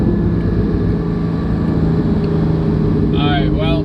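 A Porsche GT4 (981) with a Valvetronic Designs exhaust, a steady loud low engine drone heard from inside the car, with a brief higher whine near the end.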